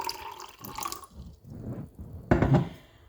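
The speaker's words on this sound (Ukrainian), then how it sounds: "я наливаю водичку в один стаканчик" Water from a thermos pours into a small glass in short splashing bursts, close and moderately loud, ending with a stronger gush.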